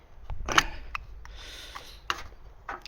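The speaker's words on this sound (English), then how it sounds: "unscrew the spark plug, which if I get this out" A motorbike spark plug being worked loose by hand, heard as short close mechanical clicks, scrapes and metallic rubbing in quiet surroundings, with one sharper tick early and another near the end.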